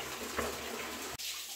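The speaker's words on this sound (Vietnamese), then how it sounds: "Tiến hành mở nước để nó xả bên trong." Water rushing steadily out of the bottom drain valve of an electric water heater being flushed of sediment, a continuous close splashing hiss with a brief dip near the end.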